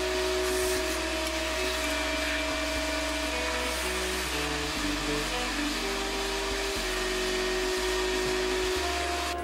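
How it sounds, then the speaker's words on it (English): A vacuum cleaner drones steadily and loudly at close range while cleaning loose metal chips from a milling machine, its whine mixed with a constant motor hum and a few faint clicks. "Vacuum up any loose chips or cuttings."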